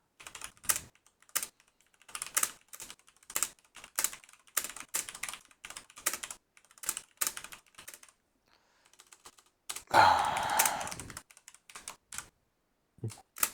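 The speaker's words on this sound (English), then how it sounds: "Just allow me to type." Keys clatter on a computer keyboard in short bursts of quick, close clicks separated by brief pauses, with a denser rustling burst near the end.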